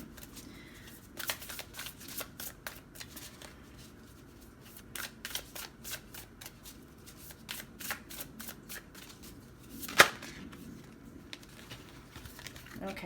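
Close, crisp riffling of a deck of tarot cards, with rapid fluttering bursts and card snaps repeating over several seconds and a voice talking faintly beneath.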